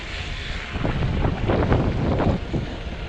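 An Engwe EP-2 Pro folding e-bike rides outdoors in cold, snowy weather with its motor boosting, heard as a rushing wind-buffeted roar that swells slightly midway, with no talk.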